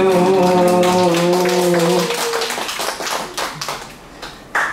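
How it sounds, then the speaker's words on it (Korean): Clapping from a congregation at a Korean church children's worship service, starting under a fading musical chord and continuing as scattered, uneven hand claps that thin out. "박수"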